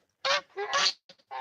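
Two geese and a duck kept as backyard birds, honking in a few loud, nasal calls at close range, with short gaps between bursts.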